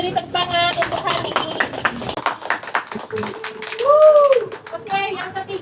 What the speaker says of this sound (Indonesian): Kita beri tepuk tangan untuk Hani